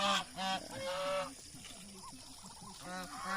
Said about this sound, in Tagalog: Magpapakain tayo ng ating pato at gansa. Ayan sila, maingay na.